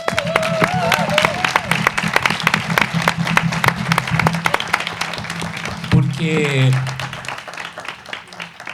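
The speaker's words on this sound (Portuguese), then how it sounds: "eu acho que mereciam uma salva de palmas" Applause at a debate fills the room with dense, rapid clapping for several seconds, then tapers off as a voice begins speaking near the end.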